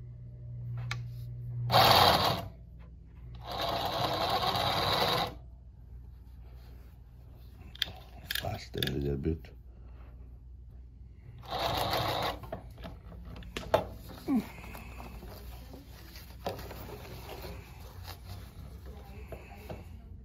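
A Consew 146RB-1A-1WS industrial zig-zag sewing machine runs in short, loud bursts of rapid stitching, separated by quiet gaps that hold scattered small clicks and handling noises.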